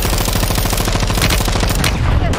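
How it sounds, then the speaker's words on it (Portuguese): Loud, continuous rapid automatic gunfire in Call of Duty Warzone 2.0, a dense rattling burst that runs the whole time with no gaps, close and dominant, with no speech over it. "o cara tá longe atirando nós, hein?"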